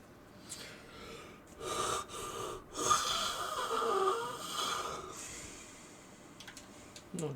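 A person gives a loud, drawn-out yawn lasting a few seconds. It is breathy and close, rises and then trails off, and other room sounds around it are quieter.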